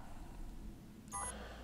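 In the video game Resident Evil 7: Not a Hero, one brief electronic beep chirps out, quiet and short, over a low ambient hum.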